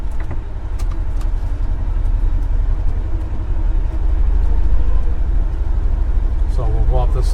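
A Polaris Ranger UTV engine climbs a small hill in a low, steady rumble that swells slightly partway through, with someone talking over it.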